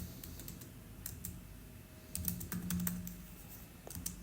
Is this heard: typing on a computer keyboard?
yes